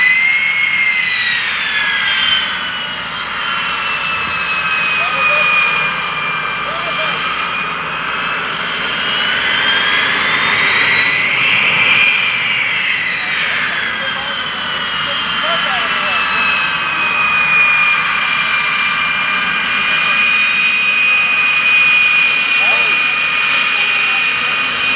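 A jet engine roars loudly and continuously at an air show, its whine rising and falling as a Harrier passes, with a voice talking underneath.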